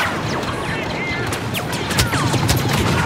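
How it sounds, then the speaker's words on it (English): Light machine gun fire in the video game Battlefront, a dense, continuous burst of rapid shots with crashes and impacts, loud and close throughout, with a voice briefly heard over it. "Eat my LMG."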